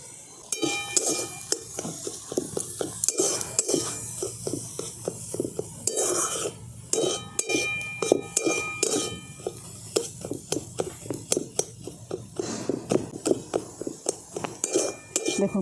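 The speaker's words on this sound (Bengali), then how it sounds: "দেখুন খুব ভালো করে আমি এটাকে মিশিয়ে নিচ্ছি, নুন আর হলুদটা দিয়েছি" A utensil scrapes and clinks against a metal pan in a steady, busy rhythm as salt and turmeric are mixed into a vegetarian dish, with faint sizzling underneath the close, repeated metallic knocks.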